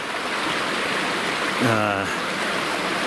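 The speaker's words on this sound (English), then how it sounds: "What I'm going to do is cross the creek right here" Creek in Utah flowing as a steady, loud broadband rush throughout, close by during a November hike, with a brief voice rising above the water noise.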